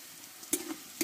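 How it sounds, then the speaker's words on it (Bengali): Onion and potato fry quietly in a pan, a soft low sizzle broken by two brief stirring scrapes about half a second apart. "পেঁয়াজটা আমি হালকা করে একটু অল্প ভেজে নেবো"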